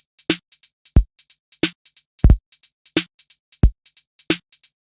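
A programmed drum beat on Maschine with 50% swing: punchy kicks and snares under shuffled hi-hat ticks in a loping, evenly repeating pattern, dry and close, with no voices.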